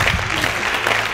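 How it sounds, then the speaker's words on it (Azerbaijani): Studio audience applauding during an Azerbaijani TV game show as a team's score is announced, a dense steady clatter of clapping heard alone for about a second. "alqışlar"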